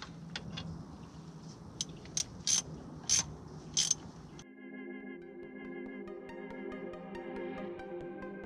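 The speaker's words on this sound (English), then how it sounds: "All right, now we can tighten those bolts back up." A ratchet tightens the brake caliper bolts on a GMC Sierra Duramax 2500 HD, giving a few sharp, close clicking bursts over quiet background, followed by a steady mechanical hum.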